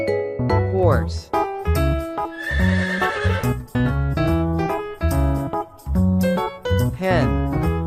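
A horse whinnies in a quick, wavering neigh that rises and falls, with a second one toward the end, both woven into a continuous bed of melodic tones.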